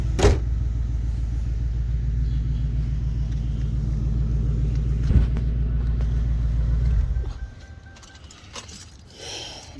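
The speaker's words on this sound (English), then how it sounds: "Let me turn this engine off so y'all can hear me better." A car engine idles with a steady low rumble and rhythmic throb, then cuts off around seven seconds, leaving quiet with faint clicks and rustling.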